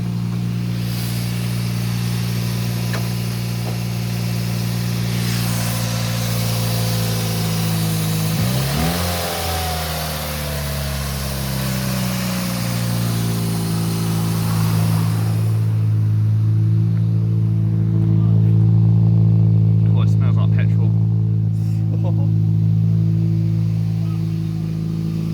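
A Toyota Yaris engine idles steadily and close by after starting, with a brief rev near the middle before it settles back into an even, droning hum that continues alone.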